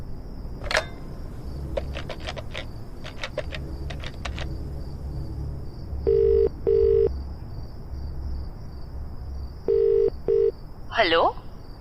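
A telephone number keyed in on a phone, a run of short electronic beeps in quick bursts followed by a few longer paired tones, heard close over a faint steady hum in a Hindi horror audio drama.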